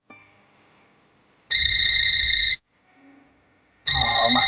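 A telephone ringtone sounds in two loud electronic bursts separated by a pause, with faint room noise and a brief murmur in between.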